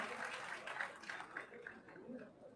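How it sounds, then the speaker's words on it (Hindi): A crowd at a railway dedication ceremony claps briefly, a soft, fairly distant patter of applause that fades within a couple of seconds. "उनके लिए एक बार जोरदार तालियां हो जाए।"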